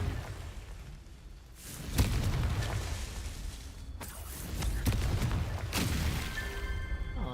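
The Confringo fire spell in Hogwarts Legacy bursts with heavy, rumbling explosions, each a sudden crack followed by a roaring, sustained blast, several in succession over a dense, noisy background.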